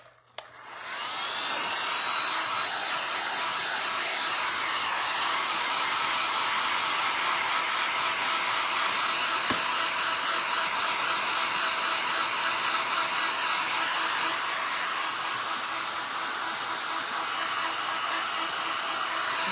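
A hair dryer blows steadily and loudly at close range for the whole stretch, drying thick acrylic paint and dragonfly glaze. The even, hissing airflow has a faint whine in it and starts with a brief click.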